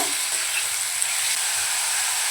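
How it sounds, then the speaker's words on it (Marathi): Spicy dhaba-style Malvani chicken keema fries in a pan while it is stirred, giving a steady, close sizzle and hiss with light scraping from the spoon. No one talks. "एकदा आता फिरवून घेऊया छान मिक्स होईपर्यंत"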